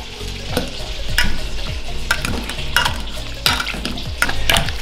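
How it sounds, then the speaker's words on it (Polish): Fish and potatoes stew in a pan with a splash of milk, giving a steady close sizzle broken by repeated scraping stirs of a utensil against the pan, with no one talking. "Wlewamy odrobinę mleka. I wszystko razem dusimy."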